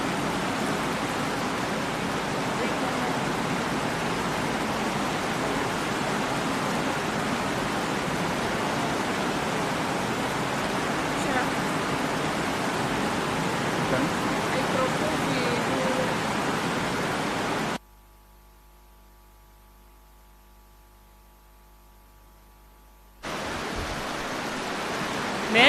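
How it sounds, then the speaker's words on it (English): Steady broadband hiss of heavy rain falling throughout, loud and continuous, with a brief dropout near the end before the downpour resumes. "I think we give the rain a few minutes."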